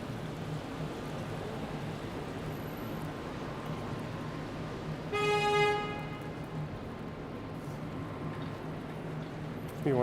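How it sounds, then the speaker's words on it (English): A single car horn honks for about half a second on a snowy downtown Toronto street during a morning commute, cutting through steady wet traffic and street wash before the ambient noise carries on alone. "We went all this way without hearing a honk. And as soon as we get to downtown, we hear one."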